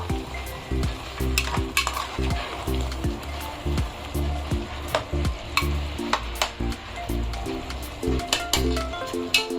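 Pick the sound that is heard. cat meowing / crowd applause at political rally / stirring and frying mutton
stirring and frying mutton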